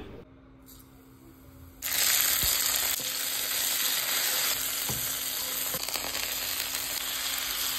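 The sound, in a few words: tomatoes and panch phoron frying in oil for dal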